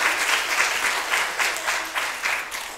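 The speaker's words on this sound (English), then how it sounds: "Should we give him a round of applause?" A church congregation in Swansea clapping in a sustained round of applause, dense and even, swelling slightly in waves before tapering off.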